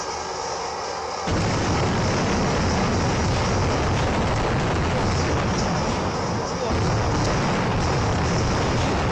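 A loud blast at a burning industrial plant, where water and foam are being sprayed around the equipment, bursts in suddenly and turns into a sustained, roaring rumble that barely eases for several seconds.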